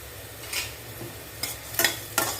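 Sandwich masala sautéing in butter in a pan for ragi butter sandwiches, a brief soft sizzle broken by a few quick spoon scrapes and stirring taps.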